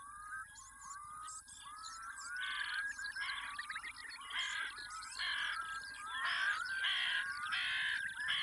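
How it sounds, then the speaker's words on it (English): Crows caw in a series of harsh, repeated calls over a quiet background, some overlapping, at moderate distance. "Crows are potential trouble to nesting birds, even short-eared owls."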